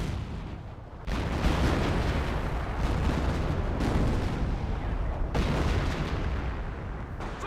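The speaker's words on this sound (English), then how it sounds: "Brings in the actual artillery barrage." Artillery barrage in the World War II strategy game Company of Heroes: after a brief quieter moment, a sustained roar of heavy shelling with overlapping booms and rumbling explosions fills the scene, loud and continuous, without speech.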